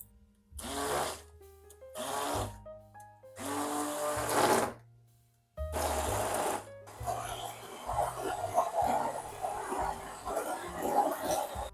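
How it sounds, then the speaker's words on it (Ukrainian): An immersion blender whirs through a cottage cheese filling in several short bursts separated by pauses, then runs continuously for several seconds at moderate volume. "А далі занурювальним блендером перетворюємо це в однорідну масу."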